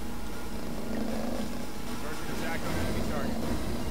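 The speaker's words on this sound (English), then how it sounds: "He is purring really loud." A steady, loud rumbling purr held close, continuous throughout, with faint background noise layered underneath.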